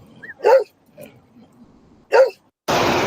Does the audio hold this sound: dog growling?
yes